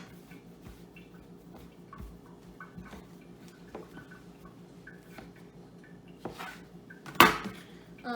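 A knife cuts cheddar cheese cracker dough in half in a home kitchen, giving soft scattered taps and faint clicks, then one sharper clatter near the end.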